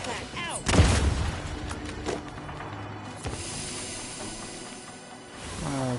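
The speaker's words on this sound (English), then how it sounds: "That's a grenade." A grenade detonates in The Outer Worlds 2 combat, a single loud low boom early on, followed by scattered thuds, hisses and gunfire under frequent player talk.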